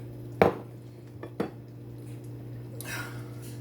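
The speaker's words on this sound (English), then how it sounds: "I'm going to put a little bit of this turkey chili with the red beans in here." A spoon clinks against a red bowl while turkey chili with red kidney beans is served, two sharp metallic taps followed by a softer scraping sound over a low steady hum.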